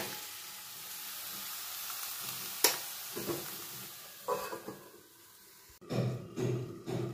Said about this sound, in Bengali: জল অ্যাড করে দেবো, দিয়ে নাড়াচাড়া করে সবজিটাকে আমি কিছুক্ষণের জন্য ঢেকে রান্না করব।